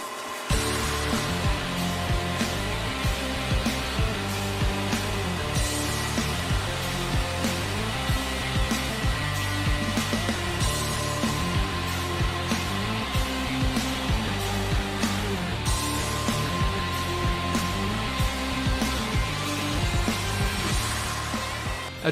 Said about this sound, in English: The cut process utilized the abrasive grains embedded in the Norton fab wheels to remove the color from the welds.